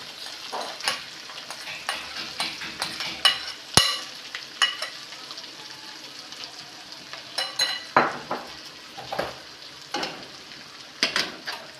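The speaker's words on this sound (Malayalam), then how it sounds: "നേരത്തെ നമ്മൾ വറുത്തെടുത്തിട്ട് വെളുത്തുള്ളി, പച്ചമുളക്, ഇഞ്ചി എല്ലാം കറിവേപ്പെല്ലാം അത് ചതക്കിയത് ഇതിലേക്കിടാം." Crushed garlic, green chili, ginger and curry leaves frying in a pan for a Kerala-style tuna fish pickle, with close irregular spoon scrapes and taps over a soft sizzle.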